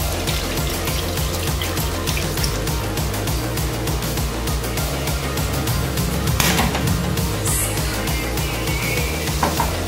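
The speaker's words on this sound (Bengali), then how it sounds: "হাত ধুয়ে দিই" Tap water runs steadily while hands are washed beneath it, a continuous close splashing flow with a brief brighter gush partway through.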